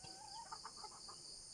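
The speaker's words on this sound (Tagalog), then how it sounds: "ang alaga kong manok" A few pet chickens give soft, rapid clucks in a short burst, quiet and somewhat distant over a steady high insect-like hiss, with no talking.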